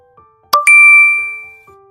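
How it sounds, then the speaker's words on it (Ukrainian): A bright electronic message-notification chime rings alone, two quick struck tones that sustain and fade over about a second, followed by a softer lower tone. "Діти, здається, нам прийшло повідомлення."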